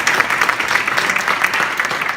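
An audience at a community conversation event applauds a panelist, a brief, steady burst of many hands clapping heard alone.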